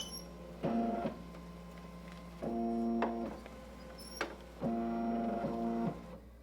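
A multi-needle embroidery machine tracing a design on a baseball cap, moving in three separate bursts of steady whirring motor hum with short pauses and clicks between them, close and with no talking.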